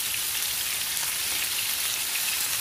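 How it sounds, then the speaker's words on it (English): Short ribs sear in a hot pan for Coke-braised short ribs, giving off a steady, even sizzle with a rain-like hiss that holds at the same level throughout and has no talking over it. "just sear it on both sides"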